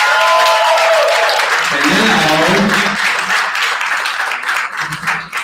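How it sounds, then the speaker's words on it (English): An audience at a fishing meet and greet benefiting Tackle22 claps in a loud, sustained round of applause close by, while a person speaks over it and the clapping thins toward the end. "So please, everyone give yourselves a round of applause for being here."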